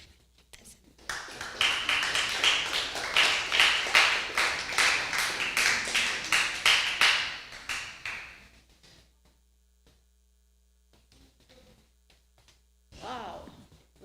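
A church hall audience at a youth debate championship at the Church of St. Monica breaks into dense, sustained applause for about seven seconds, then fades to quiet with a brief voice near the end.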